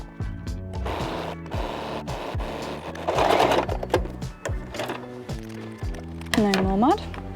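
A sewing machine stitches a new hem on a pair of jeans, its steady rapid mechanical clatter running throughout with louder surges, while a person talks over it.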